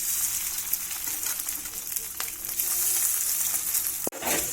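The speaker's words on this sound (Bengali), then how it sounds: "দেখুন চিকেনটা ভালো করে ভেজে নিয়েছি" Marinated chicken fries in hot white oil in a wok, giving a loud, steady, close sizzle throughout, broken by one sharp metallic clank near the end.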